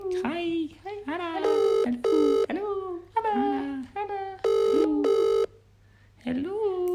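A telephone rings in repeated electronic bursts while a caller waits for Anna to answer, and a voice talks between the rings.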